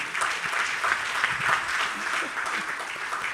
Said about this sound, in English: Please, a round of applause for Anita Esking.